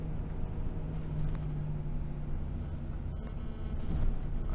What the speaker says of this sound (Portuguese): tem um caminhãozinho passando bem na frente ali